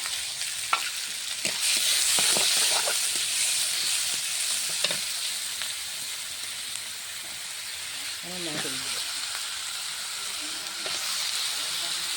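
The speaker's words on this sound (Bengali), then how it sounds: "সুন্দর করে কষিয়ে নেবে মাংস চাপিয়ে দিয়েছি সুন্দরভাবে" Chicken curry meat fries in a pan for a red gravy, with a steady hiss and sizzle broken by spoon scrapes and clatter as it is stirred, close and fairly loud.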